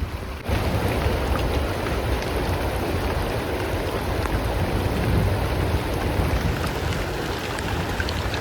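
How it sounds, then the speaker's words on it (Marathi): Steady, dense unseasonal rain pouring down, a constant broadband hiss with no talking, continuous from start to finish. "चांगलाच पाऊस येतोय इकडं"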